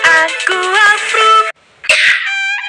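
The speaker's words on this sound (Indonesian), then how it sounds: "Batuk dan pilek mengganggu keluarga." Coughing in a television advert for Fix Formula 44 cough and cold medicine: a run of rough, voiced coughs, a short silence, then another harsh cough-like burst, loud and close.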